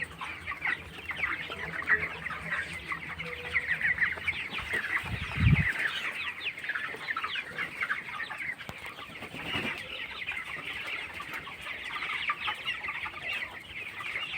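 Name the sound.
21-day-old broiler chickens clucking in a poultry farm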